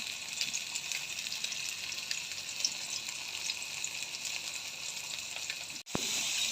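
Chopped onion and chili sizzle in hot frying oil, a loud steady hiss that cuts out for a split second near the end and then resumes.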